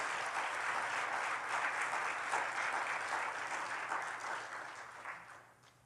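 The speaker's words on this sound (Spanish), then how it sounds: "Dele fuerte el aplauso a Cristo." A church congregation at a Spanish-language service gives a sustained round of applause, soft and somewhat distant, gradually fading out over its last seconds.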